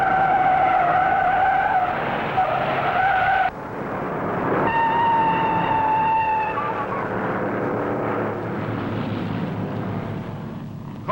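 Four 1960 NASCAR Grand National race cars slide across the track with a loud, continuous squeal of skidding tires over roaring engines, one long screech cutting out before another rises.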